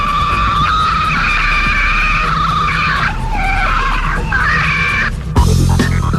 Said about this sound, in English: Police headquarters was able to record what is said to be the call of a Sasquatch